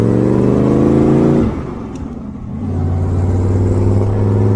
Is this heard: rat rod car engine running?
yes